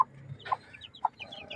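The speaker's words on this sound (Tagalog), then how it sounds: "Ito na yung kanyang mga sisiw." Newly hatched chicks of a Boston bloodline, eight in a brood, with their mother hen make a few faint, brief chirps and soft clucks spaced apart over a quiet background.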